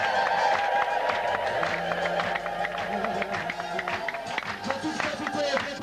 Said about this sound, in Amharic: ጌታ እንደገና ልልታና ጭብጨባ